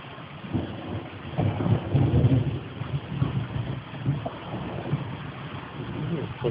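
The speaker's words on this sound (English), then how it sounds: "Ready for the thunder?" A thunderstorm with heavy, steady rumbling thunder that swells and rolls continuously under rain, loud and full.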